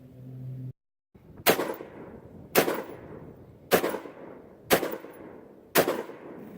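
Five loud, sharp AR-15 rifle shots ring out during red-dot zeroing, evenly spaced about a second apart, each with a short outdoor echo tail.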